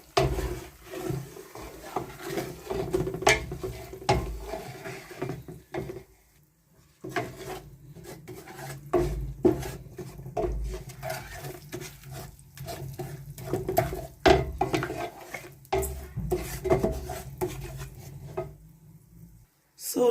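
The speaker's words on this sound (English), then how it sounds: "I will be mixing it inside this palm oil. Okay. I will just be stirring it." A spoon scrapes and stirs ground ogbono into palm oil in a pot, giving irregular rubbing and knocking strokes with short pauses between, close and fairly loud, with no speech.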